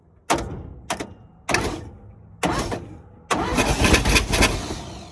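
A 1957 GMC 350 truck engine, unstarted for 37 years and with a cylinder filled with oil, cranks in four short bursts before catching and running roughly, loud and close.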